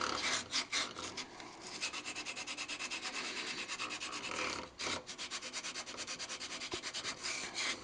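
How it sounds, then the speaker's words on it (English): Steady rhythmic hand sanding on a wooden natural-edge bowl, a rough rasping rub going back and forth close by, with a brief pause midway. "So just sand the little tips there by hand"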